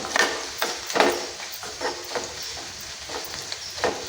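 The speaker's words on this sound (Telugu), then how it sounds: "పసుపు యాగనివ్వాలండి తాలింపులో వేగేసేయాలి" Turmeric sizzling in hot tempering oil for a yogurt rasam, a soft continuous crackle with faint stirring scrapes and small pops, close and quiet with no talking.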